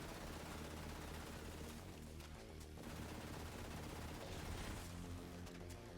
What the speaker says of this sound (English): Now that we're done shooting that SMG